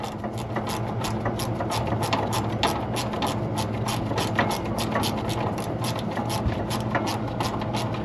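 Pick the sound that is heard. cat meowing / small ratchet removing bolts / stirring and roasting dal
small ratchet removing bolts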